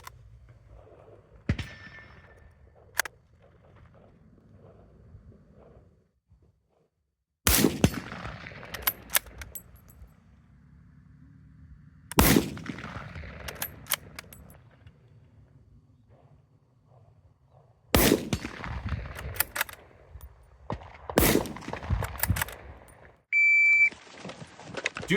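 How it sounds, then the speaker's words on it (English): Rifle shots from an 8mm Mauser and a Ruger American Ranch in 7.62x39, four or five loud, sharp cracks spaced several seconds apart outdoors, each followed by a brief rumbling echo. "here's me shooting my 8mm Mauser compared to me shooting the Ruger American Ranch."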